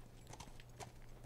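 Horse hooves clip-clopping in The Last of Us, a steady close rhythm of hoofbeats under a low, constant hum, with no voices.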